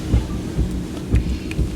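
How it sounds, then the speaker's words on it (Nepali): Heavy rain pours down at an outdoor safari park in Oita, Japan, a steady hiss broken by several deep, low thumps roughly every half second to second. "अब पानी पर्यो झन् ठुलो पर्यो"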